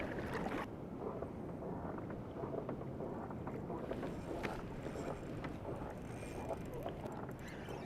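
Kayak paddling on open water during a fishing and camping trip, a continuous wash of water and wind rumble close to the microphone, without distinct individual strokes standing out.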